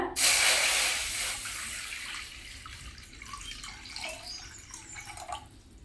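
Water splashes loudly into a wok at first, then trickles and burbles more quietly with small gurgles before a final pour.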